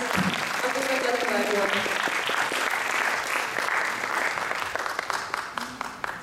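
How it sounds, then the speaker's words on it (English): An audience applauds performers at a stage show, sustained dense clapping from a crowd with a voice briefly audible early on, the clapping gradually thinning toward the end. "please give them a huge round of applause."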